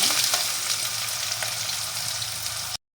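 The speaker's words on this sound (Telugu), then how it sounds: "ఆనియన్స్ ఇలా వేగితే సరిపోతుంది" Chopped onions frying in a hot pan with cumin, mustard seeds, chana dal and dried red chillies for a ridge gourd curry, giving a loud, steady close sizzle with faint stirring before it cuts off abruptly.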